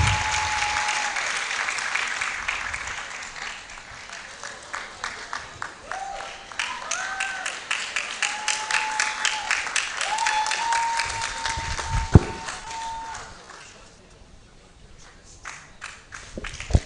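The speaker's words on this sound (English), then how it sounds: "We could do better with the applause." Steady audience applause fills a law faculty roll call ceremony, dense clapping that rises and falls over many seconds, with faint tones and a sharp knock partway through before the clapping thins out toward the end.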